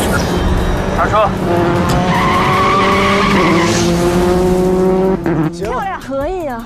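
Race car braking hard on a circuit, tires skidding and squealing in a loud sustained screech over the engine's roar, with a voice speaking over it near the end.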